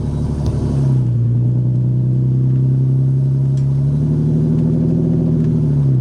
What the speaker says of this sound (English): I never thought these test pipes would sound as good as it did. It's loud, but I like it.